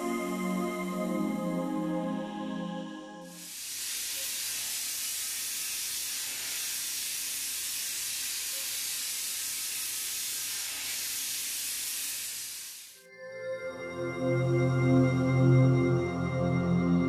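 An air power spindle milling at a 12/1000 depth of cut blasts a loud, steady hiss of air that blows the chips away for about nine seconds, with tonal background sound before and after.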